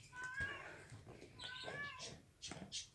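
A house cat meows faintly, two or three thin drawn-out calls spaced a second or so apart over a quiet indoor background.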